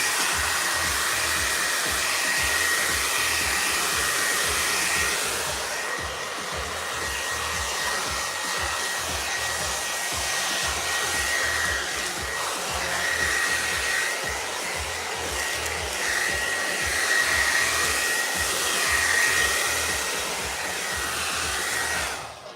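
Hair dryer blowing continuously at close range in a cluttered workshop, a loud steady whir with a faint whine that holds for over twenty seconds with no speech.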